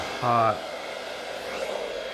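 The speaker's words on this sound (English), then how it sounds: "I'm going to use the blow dryer, and I'm using the brush to help me move it faster" A blow dryer pushes alcohol ink across a gold metallic canvas, opening with a brief loud tonal whine before settling into a softer, steady airy whoosh.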